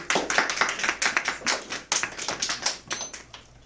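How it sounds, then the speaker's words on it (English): A small group claps at a high school debate tournament semifinal, a few pairs of hands sounding crisp and distinct at close range in an uneven patter that lasts several seconds. "Round of applause,"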